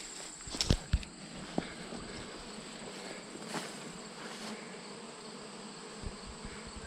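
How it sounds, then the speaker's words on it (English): Bees buzz faintly and continuously around an outdoor beehive, a soft steady hum with a few brief louder passes and small clicks nearby. "There's bees everywhere on this hive"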